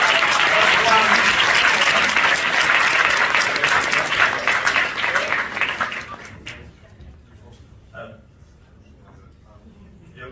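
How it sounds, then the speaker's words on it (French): Sustained applause from an audience at a film festival closing ceremony, honoring a professor after a prize announcement; dense clapping for about six seconds, then thinning into scattered claps and murmuring voices. "On peut applaudir le professeur."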